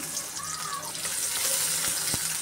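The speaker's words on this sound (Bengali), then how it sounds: "চিচিঙ্গা রান্নার জন্য আমি কড়াইতে তেল দিয়ে দিলাম, পেঁয়াজ দিয়ে দিলাম" Onions fry in hot oil in a wok with a steady, close hiss and sizzle, broken by a few light clinks and scrapes of stirring.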